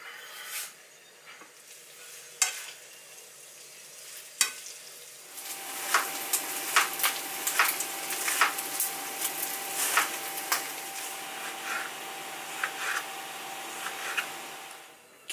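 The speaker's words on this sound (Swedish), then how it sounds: "Kebabköttet ska stekas i lite olja" Kebab meat fries in a little oil in a pan, a steady sizzle with occasional crackles and sharp stirring clatters, growing busier after the first few seconds.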